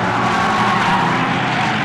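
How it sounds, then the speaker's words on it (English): Continuous loud roar of a Stock Hatch race car engine at Brands Hatch with a high tyre squeal mixed in, steady throughout with no pauses. "Again, squeal of tyres, not unusual."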